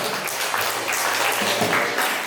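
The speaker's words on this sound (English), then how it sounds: "May we give a round of applause, ladies and gentlemen, for Sir Alam." A crowd at a birthday party applauds steadily, a dense wash of clapping from many hands that holds throughout without a break.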